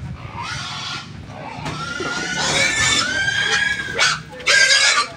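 A pig grunts and squeals loudly up close, with harsh, strained calls rising in intensity and a few sharp bursts near the end.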